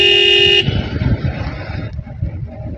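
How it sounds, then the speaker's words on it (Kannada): A loud sustained horn blast from a motorbike opens the sound and stops sharply, followed by rumbling road and engine noise of the moving bike. "ಒಳ್ಳೆ ಹಾರ್ನ್ ಹಾಕ್ಬಿಟ್ಟಿದ್ದೀನಿ"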